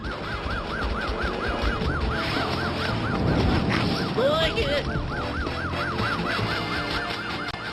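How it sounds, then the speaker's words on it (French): An emergency vehicle siren wails steadily throughout, a repeated rising and falling tone over a dense, busy background with some speech mixed in. "Toute sirène dehors, bien entendu."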